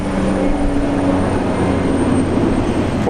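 A rescue aircraft passes overhead near Brisbane International Airport, a loud, steady engine drone that holds throughout without any talk.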